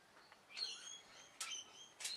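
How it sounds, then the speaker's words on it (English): Small birds chirp from a tree outside a workshop, quiet and somewhat distant, with three bright bursts of high twittering spaced across the moment against a faint background hiss. "Birds in the tree that outside are called the nip and spit brigade."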